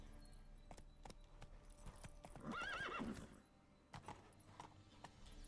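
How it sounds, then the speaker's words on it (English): A horse in The Witcher video game neighs and clip-clops, with a whinny rising briefly above steady hoofbeats and game ambience at low volume. "Go, horse. Go."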